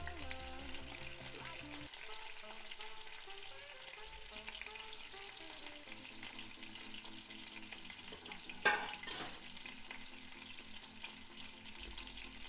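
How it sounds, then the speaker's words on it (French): Veal shank searing in a Cookeo multicooker for osso bucco, a steady sizzle and fry running throughout with a brief louder pop near the end, no voices. "Bien saisir sa viande."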